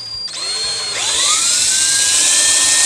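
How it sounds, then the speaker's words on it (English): Power drill boring a hole during bench work on a Glendale 65, the motor whining up with a rising pitch that then holds steady, close and loud with no talking. "I'll just very carefully drill a hole"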